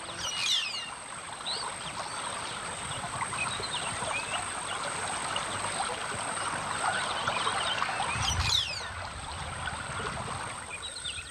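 The flooding Savo River flows steadily with a rushing, trickling wash, moderately close, while faint bird calls come through above it and a brief louder surge arrives near the end.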